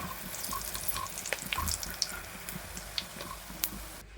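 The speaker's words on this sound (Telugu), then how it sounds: "ఇవి బంగారు రంగు వచ్చేంత వరకు అయితే నూనెలోనే ఫ్రై చేసుకోండి" Poornam boorelu, sweet stuffed dumplings, deep frying in hot oil until golden, giving a soft continuous sizzle with scattered pops and light clicks of a utensil.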